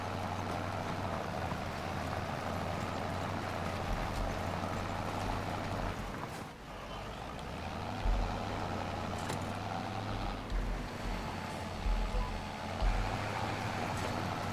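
Tractor engine in Farming Simulator 25 drones steadily and close with a low rumble throughout, dipping briefly mid-run before picking back up under a few light knocks and shifts.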